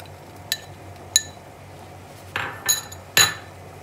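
A spoon stirring Moroccan harira soup in a pot, giving a few separate clinks and scrapes against the metal, with short scraping swirls near the end, close and fairly quiet with no talking.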